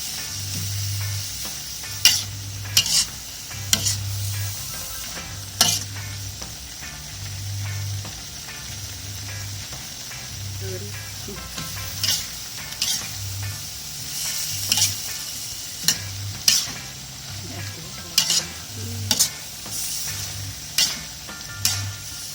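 Sweet bitter melon is stir-fried in a pan over a constant sizzle, punctuated by regular sharp spatula scrapes and knocks against the pan, close and fairly loud.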